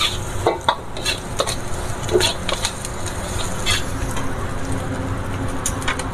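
Curry leaves drop into hot oil in a pan for a Chicken 65 recipe, giving a steady close sizzle and crackle with scattered spits and a few stirring clinks throughout.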